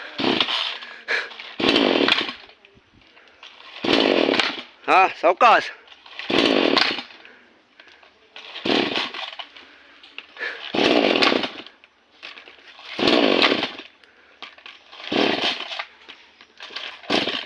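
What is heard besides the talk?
chainsaw cutting a coconut tree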